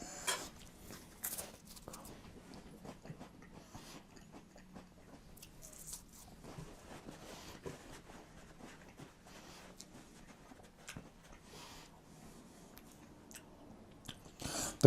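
Someone bites and chews a cracker topped with Brushfire blackberry pepper jam, giving repeated close, crisp crunches with faint scraping between them over about fifteen quiet seconds.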